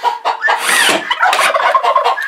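Hens in a chicken coop making loud, agitated squawks and gobbling clucks, close by and continuous, with no talking.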